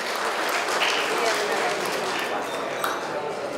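Audience at a Bandung government briefing for the SAKIP awards gives sustained applause, a dense steady wash of clapping with faint talk underneath.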